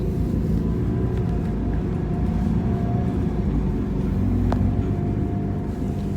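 A Transperth bus on route 253 pulls out from the terminus, its engine giving a steady, loud, close rumble that holds evenly throughout with no voices.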